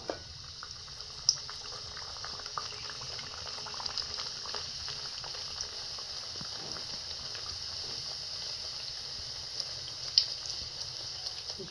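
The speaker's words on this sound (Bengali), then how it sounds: "এখন লুচিগুলো ভাজবো।" Luchi, rolled wheat flatbreads, frying in hot oil, giving a steady bubbling sizzle that holds at an even level throughout with a couple of faint clicks, no talking.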